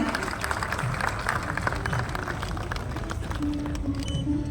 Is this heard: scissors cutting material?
no